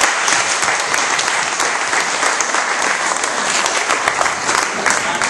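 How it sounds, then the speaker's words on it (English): A steady round of applause from a golf presentation audience, dense clapping of many hands sustained at fairly loud, even level without speech over it. "So I want to give your organizers a special round of applause for the initiative."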